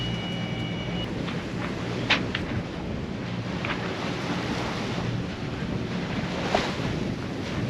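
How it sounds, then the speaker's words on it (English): Steady wind of about 12 knots buffets the microphone while foot-high, whitecapped waves slosh around a boat in the Whitsundays, a constant rushing roar with a few faint knocks and splashes. "It's about 12 knots of wind and about a foot of waves with a lot of white caps."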